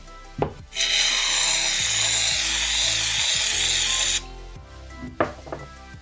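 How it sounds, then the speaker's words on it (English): Shaving foam sprayed from a can into a bowl for fluffy slime, a loud, close, steady hiss of about three and a half seconds with a short rattle of the can before and after, no talk. "now I'm gonna put the shaving foam."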